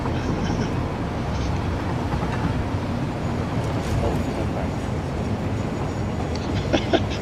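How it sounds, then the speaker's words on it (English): An aluminium-carrying freight train in the video game Satisfactory rumbles steadily throughout, a continuous low rolling drone with faint clanks near the end. "aluminium train is on the way back."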